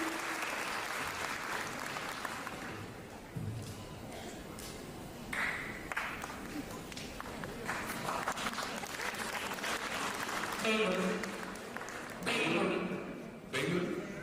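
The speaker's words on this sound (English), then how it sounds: "Let's clap for them, guys." Graduation audience applauding steadily throughout, a dense wash of many hands clapping with occasional louder swells, while a voice speaks over it at times.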